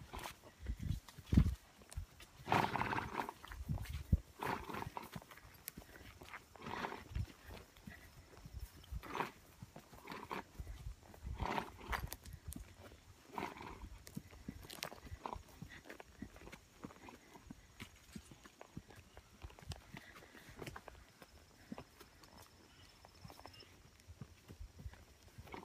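A horse walks along a morning warm-up trail ride, its hooves giving a steady, fairly faint clip-clop rhythm with soft rustling between footfalls.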